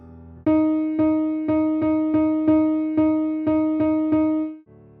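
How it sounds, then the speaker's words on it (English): A single pitched instrumental note repeats in a steady, even pulse of about ten quick attacks, grouped in threes, clear and alone with no talking. "put a 3 above the beam to indicate a triplet"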